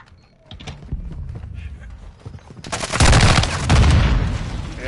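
Bursts of gunfire and clattering effects from a PS4 shooter game, building to a loud, dense barrage in the second half.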